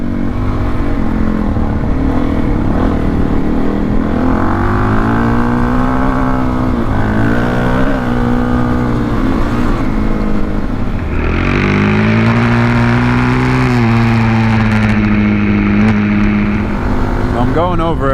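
A motorcycle engine roars and revs steadily as the rider lets the back tire slide on a cold-weather ride, its pitch rising and falling through throttle changes, with wind rush throughout and someone talking over it.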